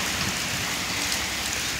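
Steady, dense rain falls and patters on surfaces during a cloudy downpour that has flooded roads and fields, a continuous close hiss with no voices.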